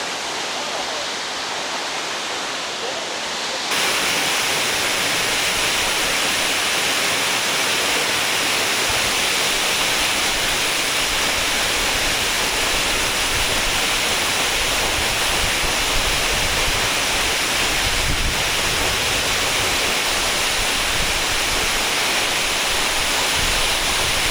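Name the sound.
waterfall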